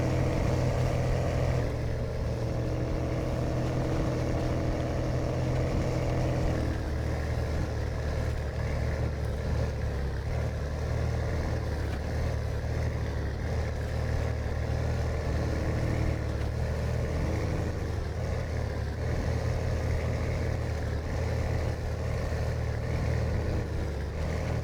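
A 2021 Dodge RAM 350 Mega Cab pickup truck engine in the video game SnowRunner hums at a steady idle for the whole stretch, a low constant drone that shifts slightly in tone a few seconds in.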